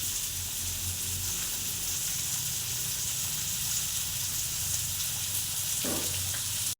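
Duck meat cooking at a picnic gives off a steady, even sizzle with a watery hiss, continuous and moderately close, and a brief stir or clink near the end.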